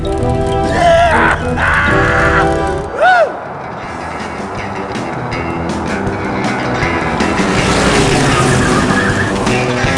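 A company car in the Grim Fandango cutscene skids with loud, wavering tire squeals over a roaring engine for the first few seconds, then drives on with a steady rumble.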